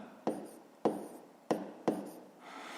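A pen marks paper in four short, crisp strokes spaced about half a second apart, each a quick scratchy tap, close and quiet in an otherwise still room.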